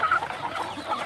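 Free-range village chickens on a farm cluck and murmur at feeding time, with several close, soft overlapping clucks in a short busy burst and no voices.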